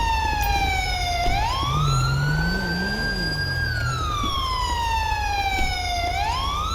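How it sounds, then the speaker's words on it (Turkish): A police siren wails continuously, sweeping up and down in pitch, loud and close over a steady engine rumble, from a police car in GTA 5. "Hatta dur şu sireni de susturayım."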